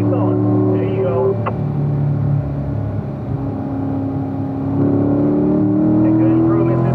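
Race car on a track accelerating hard to full throttle out of a turn, a steady loud engine drone climbing in pitch toward the end, with a voice over it.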